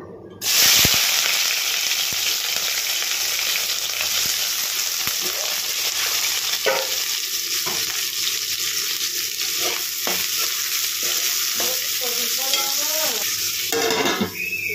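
Green chillies and onions drop into hot oil in a pan and burst into a loud, continuous close sizzle, with occasional spoon scrapes and stirring clatter toward the end.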